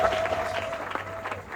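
A church congregation applauds in a steady wash of clapping, moderately close and continuous, with a faint tone underneath.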